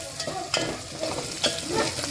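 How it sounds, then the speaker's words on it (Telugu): Dried red chillies fry in hot oil for tomato charu, a bright sizzle broken by several sharp scraping knocks as a spoon stirs the pan. "ఎండుమిరపకాయలు ఒక 4 వేసుకుందాము. మంచిగా బ్రౌన్ కలర్ వచ్చేదాకా వేయించుకుందాం."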